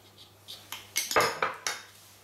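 A metal spoon mixes spice masala with pickle spices in a bowl for stuffed eggplant, making a series of about seven sharp clinks and scrapes in an uneven rhythm, close and clear, with no talking.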